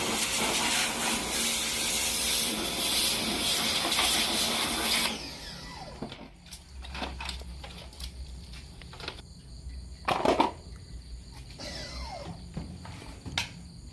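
A steady, loud hissing water spray washes the plastic tub of a washing machine during repair, then stops, leaving quieter drips, splashes and scattered knocks.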